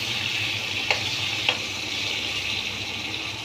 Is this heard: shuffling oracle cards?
no